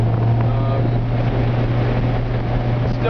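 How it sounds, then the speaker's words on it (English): A 1993 Honda Civic Si hatchback with the VTEC D16Z6 engine, still cold, driven around a neighborhood: a loud, steady engine drone from inside the car with heavy rumble and wind noise, no clear revving climb. "This is the VTEC motor, so you'll definitely hear it popping off."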